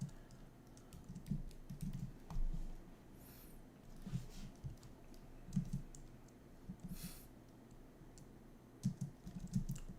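Keystrokes on a computer keyboard come in quick clustered bursts with short pauses between them. The clicks are close and fairly quiet, and no one speaks.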